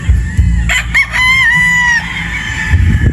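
A Boston Roundhead broodstag rooster crows once, loud and close, a long ringing call with a rising start, amid farmyard background noise.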